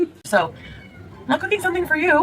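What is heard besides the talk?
cat meowing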